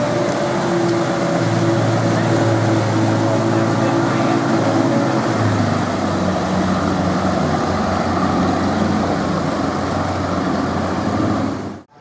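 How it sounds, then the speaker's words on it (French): A canal taxi boat in Bangkok draws nearer along a khlong, its engine a steady loud drone and rumble that holds throughout, with a low tone shifting partway through before cutting off at the end. "Également donc des bateaux taxis tels que celui-ci qui se rapproche de nous là."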